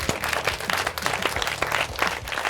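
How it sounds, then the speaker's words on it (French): A small studio audience and jury applaud the contestants at a cooking competition finale, lively, uneven clapping with distinct individual hand claps and a few low voices underneath, moderately close. "je pense qu'on peut applaudir nos candidats"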